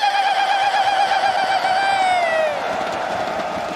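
An arena crowd at a Counter-Strike grand final, the PGL Major in Antwerp, cheers loudly. One long whistle-like whoop rises above the roar, then slides down and fades.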